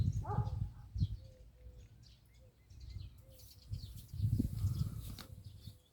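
Small birds chirp in short, scattered tweets at a distance, with low rumbling background noise and occasional thumps.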